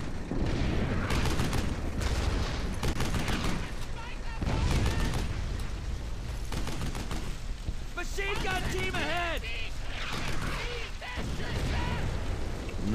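Rapid machine gun fire and explosions in the World War II shooter Brothers in Arms: Hell's Highway form a dense, loud, continuous din, with voices talking over the battle.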